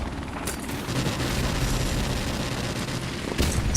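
An M16 rifle in Modern Warfare Remastered fires a steady, dense stream of close, loud shots with little variation, punctuated by a couple of sharper cracks near the start and end.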